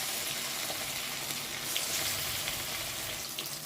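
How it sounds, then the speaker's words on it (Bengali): Katla fish pieces frying in mustard oil in a pan, giving a steady, close hiss and crackle of sizzling that runs evenly throughout with no talk. "এবার মাছগুলোকে আমি সুন্দর করে ভেজে নেব দেখুন একটা একটা করে মাছ আমি তেলে ছেড়ে দিচ্ছি"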